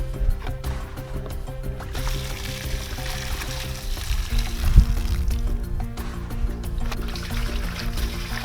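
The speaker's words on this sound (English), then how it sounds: "Pour the water out and repeat 2 or 3 times." Water pours and gurgles out of a garden spray tank in a continuous splashing stream, with low hollow sloshing underneath.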